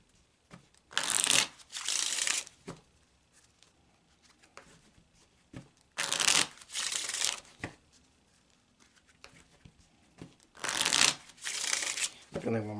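A deck of playing cards being shuffled by hand during a cartomancy reading, three distinct riffling bursts separated by quieter handling, close and crisp, with a person speaking softly between shuffles.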